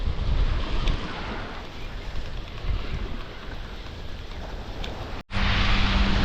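Wind buffets a microphone at the seaside on a gloomy morning at Folkestone, a loud continuous rushing roar with faint surf beneath, briefly cut off near the end.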